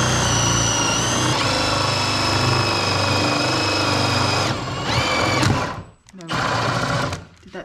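A cordless drill gun with a tech bit drives a screw through Easycraft cladding panels on an internal wall, giving a loud, high, steady motor whine that ramps up and then stops in short bursts near the end.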